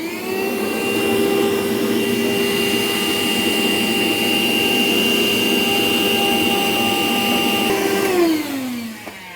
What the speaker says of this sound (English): now we're ready to vacuum out the little bit of residual ash that's left